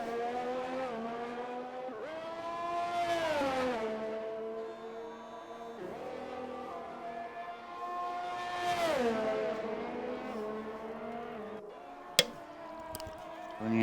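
Race car engine in a racing video game set at a Japan circuit, revving up and down through gears with rising and falling whine across the lap, steady and close, with a sharp click near the end.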